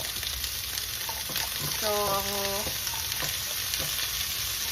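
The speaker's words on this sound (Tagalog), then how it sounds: "Stir-fry natin ang carrots mga 2 minutes." Carrots stir-frying with onion in a pan make a steady close sizzle, with a short tonal scrape or squeak from stirring in the middle and faint talk over it.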